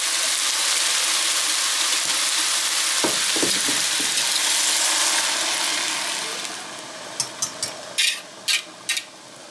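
Seasoned sausage and beef sizzle loudly in a hot pan with a steady dense crackle, a few scraping stirs midway, then the frying quiets to a softer hiss broken by sharp clicks and clatters near the end.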